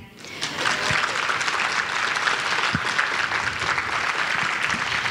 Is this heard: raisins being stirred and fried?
no